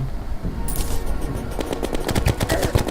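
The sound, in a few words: gun firing in Terraria video game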